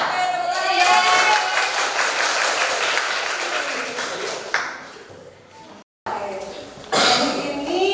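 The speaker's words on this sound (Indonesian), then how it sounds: "Oke, tepuk tangan." Students in a vocational high school classroom clap loudly together for several seconds, the applause fading out, a short silence, then a fresh burst of clapping at the end.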